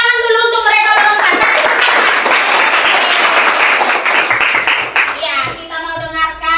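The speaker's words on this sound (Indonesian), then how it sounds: "Tepuk tangan dulu untuk mereka berempat." Classroom clapping for a group of four children during a primary-school Christian religion lesson, a lively burst of many small hands over a few seconds, framed by children's voices before and after.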